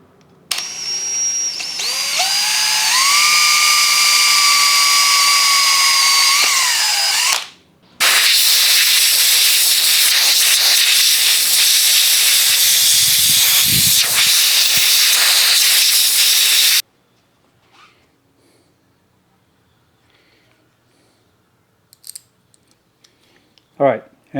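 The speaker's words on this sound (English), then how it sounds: "before I drill the 3/8 inch hole" A power drill bores a 3/8 inch hole in an aftermarket air intake for a 2025 Honda Dax 125, a loud whining whir rising in pitch, a brief pause, then a harsher sustained grinding run before it stops and small handling clicks follow.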